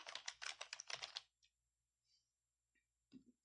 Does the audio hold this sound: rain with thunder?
no